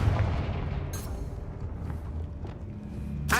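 A Confringo spell in the Hogwarts Legacy video game explodes, with booming blasts and sharp bursts over a rumbling bed of battle noise, fairly loud and with no speech.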